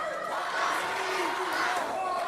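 Wrestling crowd at a live match chanting together in a loud, sustained roar of many voices, close and dense throughout.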